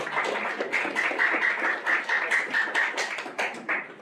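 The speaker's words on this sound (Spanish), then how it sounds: "Un aplauso." An audience at a talk bursts into steady applause to welcome a speaker, dense overlapping claps filling the room for several seconds at an even, sustained level.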